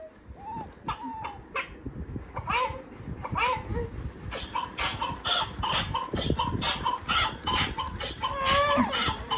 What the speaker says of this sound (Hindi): ये भैया ये मुर्गा है।